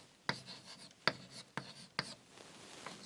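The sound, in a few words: handwriting Sanskrit in Devanagari script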